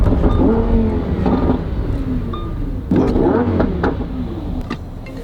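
A Lamborghini Huracán engine hums steadily while driving, with a few louder surges of revving and road noise, close and fairly loud, no talking.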